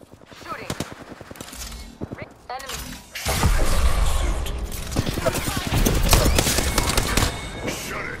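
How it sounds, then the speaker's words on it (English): Gunfire rattles in the Apex Legends video game, with scattered single shots early giving way to sustained rapid automatic bursts, loud and close, while players talk over it. "Shooting."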